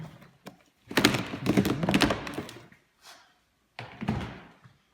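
A gas tank comes off a 2017 KTM motorcycle, heard as a series of close plastic thunks, scrapes and rattles, one longer burst of handling and then a few shorter knocks, with no talking.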